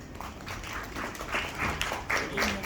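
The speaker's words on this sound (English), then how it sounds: "with a huge round of applause" Scattered applause from a crowd at a business architects talk, a fairly quiet patter of clapping that swells slightly toward the end.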